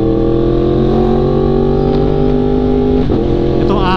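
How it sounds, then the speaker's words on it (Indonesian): A Yamaha R1M superbike's engine revving hard and steady, loud and close, with a quick dip near the end as a quickshifter gear change cuts in, no talk. "Gaspol, enak sih, halus banget quick shiftnya."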